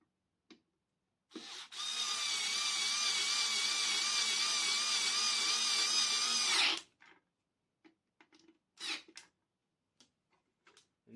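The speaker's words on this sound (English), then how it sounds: "this electric screwdriver just to go quicker" An electric screwdriver drives screws into the casing of a Makita SG1250 110v wall chaser, a close, steady whirring whine of about five seconds, followed by scattered small clicks and handling knocks.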